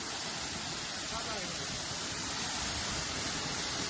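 Torrential monsoon downpour on the Harishchandragad trek makes a loud, continuous roaring hiss that holds steady throughout.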